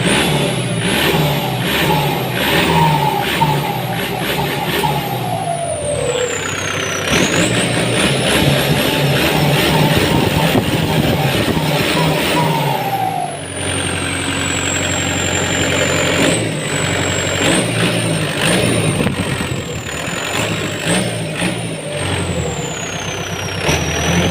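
A car engine, freshly fuel-tuned, revs hard over and over, climbing and falling through the rev range with loud, sustained rasp and whine, no talking over it.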